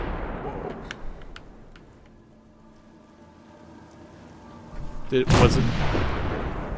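Artillery fires in the Fallout 4 game, Sim Settlements 2 mod: after a quiet stretch of scattered faint shots, a single loud, close boom lands near the end and rolls out into a long rumbling tail, with a brief spoken question beforehand.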